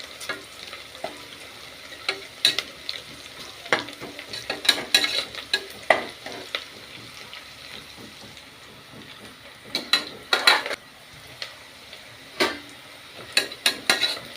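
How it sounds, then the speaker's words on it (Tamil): Onions sauté in a pan for mint rice, a low continuous sizzle punctuated by sharp spoon scrapes and clanks against the pan in uneven clusters, close and fairly loud. "இப்போ பாருங்கள் வெங்காயம் நல்லா வதங்கிச்சு."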